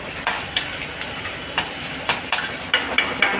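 Onion and noodles stir-fried in a pan for street-style Hakka noodles: a steady close sizzle broken by sharp spatula scrapes and clacks about every half second.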